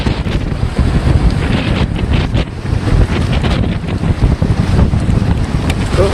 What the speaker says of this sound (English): There's water blowing right up over it.